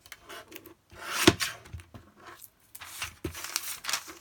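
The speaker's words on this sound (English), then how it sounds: "I have to trim off a little bit more, just because I'm using this little cutter." Printed tracing paper being trimmed with a small cutter: close, dry rubbing and scraping strokes in a few separate bursts with short quiet pauses between, and no talking.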